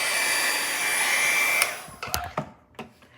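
A hair dryer blows steadily on a watercolor painting with a loud, even whir, then switches off partway through, leaving a few faint knocks and rustles.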